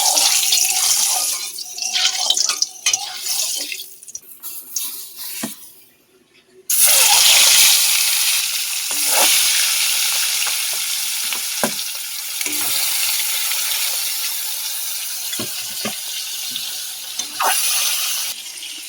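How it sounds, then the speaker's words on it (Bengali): Fish fries in hot oil in a pan, a loud, steady hiss and crackle that cuts out briefly and then bursts back in strongly, with scattered knocks from handling. "তেল গরম হয়ে গেছে, মাছগুলো এবার ভেজে নেব"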